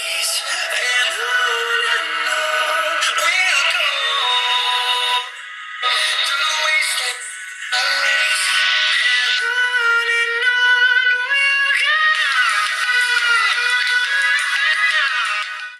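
An Oppo A3s smartphone's built-in speaker plays a melodic ringtone at full volume, tinny and bright with a bouncing tune, two short dropouts, and no voices.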